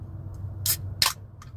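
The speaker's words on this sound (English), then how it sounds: "I'm getting ready to pop open my Fit Aid" Someone opens a can of FitAid drink at close range: a short hissing burst, then a sharper pop with a brief fizz, followed by a faint tick over a low background hum.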